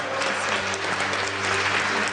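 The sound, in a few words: congregation applauding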